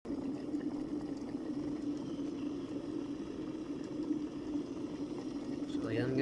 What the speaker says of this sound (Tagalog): Kumukulo na yan.